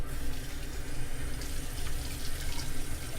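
Shaving brush rinsed under running tap water in a sink with hard water, a steady continuous splashing and rushing close by with no talking.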